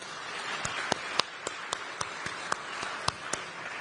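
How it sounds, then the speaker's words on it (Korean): Scattered, evenly spaced claps in a large legislative chamber of the National Assembly, faint and slightly distant over a steady hiss of room noise. "큰 박수 한번 부탁드립니다."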